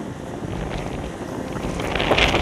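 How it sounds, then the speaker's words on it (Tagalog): Strong wind buffets the microphone in a continuous roaring rush that grows slightly louder toward the end. "Lakas ng hangin."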